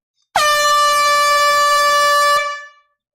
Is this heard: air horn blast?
yes